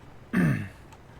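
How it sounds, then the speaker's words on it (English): A single short, rough throat clearing, close and clear, followed by quiet. "excuse me for the clearing my throat"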